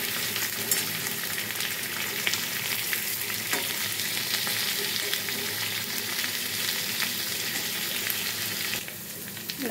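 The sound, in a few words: pointed gourd (potol) frying in oil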